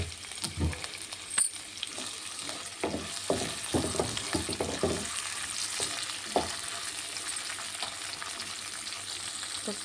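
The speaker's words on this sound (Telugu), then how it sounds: "ఉల్లిపాయలు ఇలా అన్నీ 1 బై 1 వేసి ఫ్రై చేసుకోవాలి" Sliced onions sizzle in a pan in a soft, steady frying hiss, with scattered stirring taps and clatter on top.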